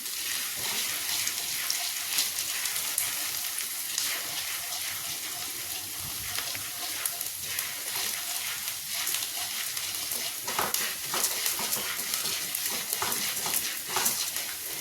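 Ginger fries in sesame oil for a curry leaf pickle, giving off a steady, bubbling sizzle and hiss that continues without a break.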